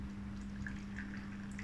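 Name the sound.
hot water poured onto tamarind pulp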